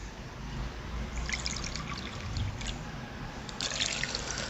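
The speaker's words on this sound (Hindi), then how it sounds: "ये 3 प्याले हमने इसके अंदर पानी ऐड कर देने हैं।" Water poured from cups into a pot of falsa berries for juice at an outdoor village cooking spot, a steady close trickle and splash running throughout with no talk.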